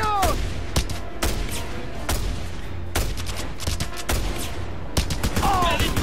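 Gunfire in Just Cause 2 rings out as repeated loud shots in an irregular rhythm, with brief whistling and whooshing effects mixed in and a low rumble underneath.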